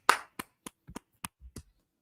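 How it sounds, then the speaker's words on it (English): About seven sharp, crisp hand claps ring out in a slow, roughly even sequence, close and loud with near silence between them, as a group claps in unison. "Clap it up"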